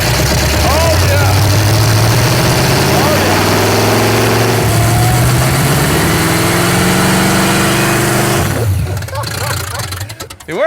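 A car engine revs hard and loud, its pitch climbing and holding in repeated pushes before dropping off near the end, with people talking over it.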